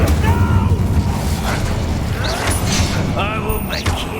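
The Incendio fire spell cast in a Harry Potter video game erupts as loud, booming fiery bursts over a dense bed of game noise, with voices talking over it.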